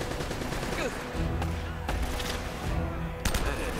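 Gunfire from the video game Uncharted: Drake's Fortune crackles in dense, rapid bursts with several sharp individual shots standing out over continuous background game noise.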